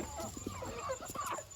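A chicken suffering from an eye disease clucks softly in a short run of quiet, low calls, with some faint background noise.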